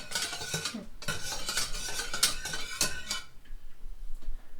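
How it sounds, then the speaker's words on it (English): A spoon stirs milk into a thin sauce in a pan, scraping and clinking against the metal in a steady run of strokes for about three seconds before falling quiet, with no talking. "You can go ahead and add just a little bit of the milk. Perfect. I'll stir it in."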